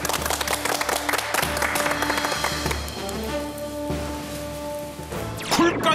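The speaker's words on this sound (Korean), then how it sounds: "박수 한번 주세요." A Korean television studio audience on a tvN talk show claps briefly, the applause overlapped by music and stings from the broadcast with some voices.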